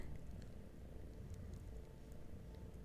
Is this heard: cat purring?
yes